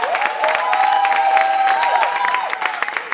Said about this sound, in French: Est-ce qu'on peut les applaudir encore?